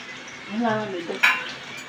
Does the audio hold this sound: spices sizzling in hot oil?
yes